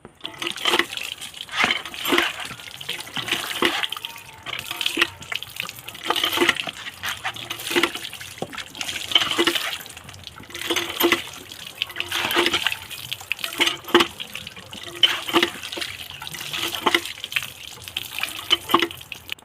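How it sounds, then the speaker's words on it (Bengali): Tap water runs steadily over a cutting board as it is rinsed by hand in a home kitchen, with irregular splashes and small clatters of the board shifting under the stream, close and continuous. "কাটার বোর্ডটা ভালো করে ধুয়ে নেওয়া হবে"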